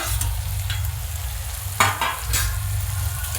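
Carrot, cashew and ginger-garlic paste being sautéed and stirred together in a pan for leftover-rice phodni bhat: a steady low sizzle with a few scraping stirs, close and moderately loud, no talking.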